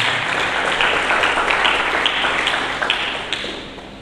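Church congregation claps for Jesus during a sermon, a dense round of applause with a few sharper individual claps, gradually fading out.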